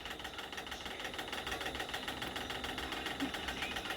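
Sewing machine running steadily while stitching the edges of a 36-size princess-cut blouse, a continuous close mechanical whir with fast rhythmic needle chatter and no talking.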